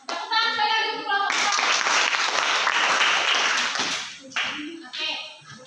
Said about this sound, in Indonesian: Tepuk tangan sekali lagi untuk kelompok